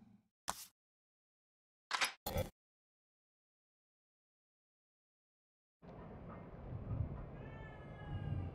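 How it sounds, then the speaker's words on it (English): Brief bursts of a cat meowing in The Evil Within 2, a few short separated cries from close by, broken by silence and followed by a low ambient game drone. "A cat."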